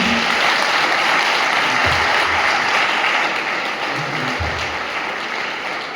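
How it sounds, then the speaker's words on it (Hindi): Congregation at a church service clapping for God, a loud, sustained crowd of hands ringing out steadily for several seconds and easing slightly toward the end, with a few low murmurs underneath. "परमेश्वर के लिए तालियां बजाएं, उसको आदर दें"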